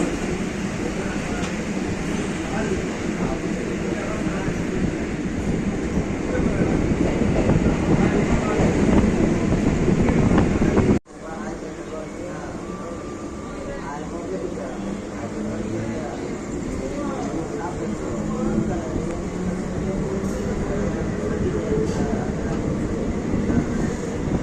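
A passenger train running at night from Chennai Central to Arakkonam, with a steady rumble and faint clickety-clack throughout and a brief dropout partway, while a voice talks over the noise.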